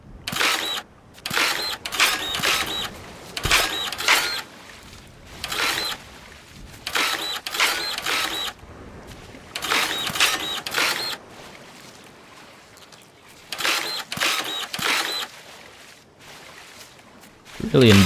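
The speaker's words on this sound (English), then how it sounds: "I think what we could do is just use the printer right now. We'll print the area that we want." A printer in the Dinkum video game whirs in repeated mechanical bursts, each a second or two long, with a steady stop-start rhythm. Someone talks over it at times.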